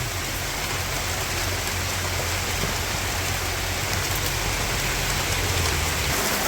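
A sudden shower falls from a cloudless sky at midday, a steady, dense hiss of rain that holds evenly from start to finish with no voices.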